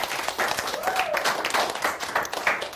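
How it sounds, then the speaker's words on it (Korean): Audience applause breaks out to welcome a farm company representative taking the stage at a career-education session for middle-school students aspiring to farm, steady dense clapping held for a few seconds at moderate level. "김민구 대표님을 박수로 맞이해주세요"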